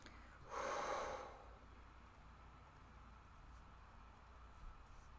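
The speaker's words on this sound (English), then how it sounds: "Deep, powerful exhales always help relax." A single deep, forceful exhale rushes out close by near the start, then fades into quiet room noise with no further breaths.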